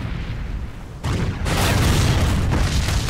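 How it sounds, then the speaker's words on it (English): Loud booming blasts burst in quick succession, a dense rumbling crackle of fireworks in Resident Evil 5 with a sharp jump in intensity partway through, no talking. "That's how the fireworks sound."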